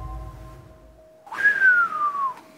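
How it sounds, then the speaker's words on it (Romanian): A contestant whistles on a Romanian TV word-game show, a clear descending whistled tone lasting about a second after a quiet stretch, close and fairly loud. "ți-ai luat și timp să fluieri"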